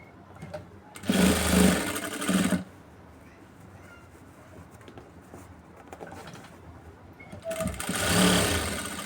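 A sewing machine stitches a blouse in two bursts of fast, rattling running, each a couple of seconds long, with a quieter stretch of room noise between them and no talking.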